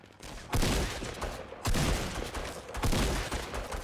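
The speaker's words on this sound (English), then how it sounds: "There's, like, shotguns going off nearby me." Three bursts of rapid shotgun fire in the video game Fortnite go off nearby, each a loud crackling volley about a second apart with no talking over them.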